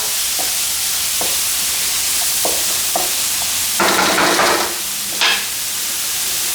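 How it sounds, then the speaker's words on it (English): Chicken wings tossed with crushed garlic and spices in a hot pan for Cantonese salt and pepper wings: a faint background sizzle broken by a few light clinks, then a loud burst of tossing and sizzling, and one more short toss. "Toss these ingredients up, get all that spice pop out."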